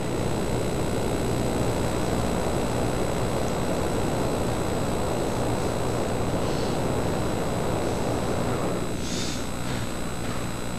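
A jetpack flying in GTA San Andreas gives a steady, loud jet-engine roar that holds without a break for about ten seconds, with a slight shift in tone near the end.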